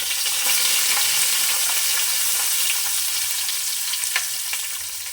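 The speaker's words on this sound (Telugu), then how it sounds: "గోల్డెన్ బ్రౌన్ కలర్ వచ్చేంత వరకు ఫ్రై చేసుకోవాలి" Thinly sliced onions and green chillies fry in hot oil for an Andhra-style beef biryani. The oil gives a steady, close sizzle with the occasional crackle and stirring scrape, and no one speaks.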